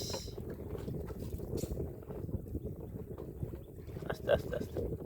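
Steady wind gusts over a river in the Sundarbans, a rough low rumble buffeting the microphone, with water and boat noise beneath and faint voices talking now and then.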